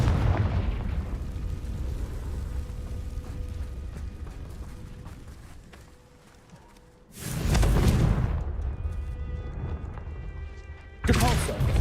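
The Confringo fire spell in the game Hogwarts Legacy bursts in loud, roaring explosions, a sustained blast followed by a second sharp burst near the end, over continuous game noise.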